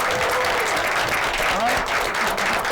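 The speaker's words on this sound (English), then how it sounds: "How about a round of applause for the Midnight Show security team?" Audience applause breaks out for a late-night show's security team, a dense, steady wash of clapping that holds for the whole stretch with faint crowd murmur underneath.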